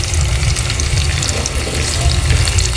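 Adobo meat frying in its own rendered oil in a pan, a dense steady crackle and sizzle with scattered pops, close and continuous throughout with no talking.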